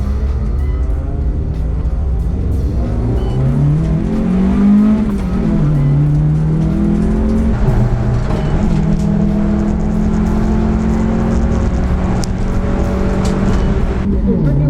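A muffled race car engine drones loudly and continuously, its pitch climbing and falling as it revs hard and shifts gears, heard from inside the car.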